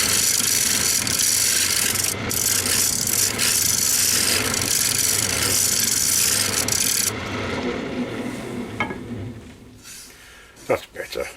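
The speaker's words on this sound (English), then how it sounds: "start the sanding process" Sandpaper rasps continuously against a spinning purpleheart bowl on a woodturning lathe, a loud close steady rubbing hiss that drops off partway through as the sanding eases and the lathe quietens.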